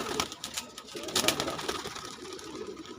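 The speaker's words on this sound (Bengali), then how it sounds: "এই তিনটা কবুতরই আপনাদের সামনে ছেড়ে দিলাম" Three speedy pigeons are released from the hand and fly off, with several sharp wing flaps and clatters up close over a soft background hiss.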